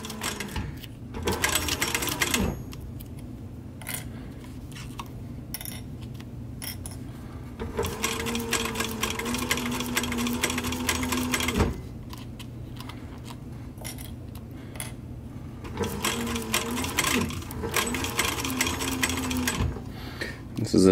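A sewing machine stitches a short cap brim over plastic, running in steady bursts of fast mechanical whirring with pauses between, close up, while a person talks over the stops and starts.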